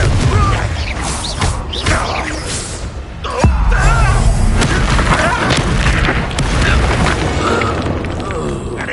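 A deep boom from the Confringo explosion spell in Hogwarts Legacy, followed by a sustained rumbling, crashing roar with mechanical clatter beneath.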